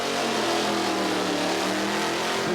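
A 454 cubic inch Chevy-powered show car at a car show revs loudly and close, a sustained throaty engine roar that holds steady without breaks.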